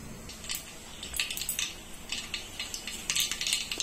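Spices crackling and spitting in about two and a half spoons of hot oil for a tempering with turmeric and asafoetida, a quiet close stream of sharp pops and sizzles.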